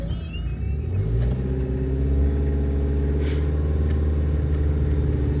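Small camper van engine revving through a hill start, a steady mid-pitched drone that climbs as the revs rise and then holds, loud and close with no talking.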